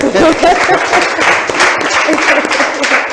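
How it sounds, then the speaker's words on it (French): An audience at a talk breaks into loud, steady applause, dense clapping from many hands filling the whole moment without letting up. "Est-ce qu'on peut acclamer?"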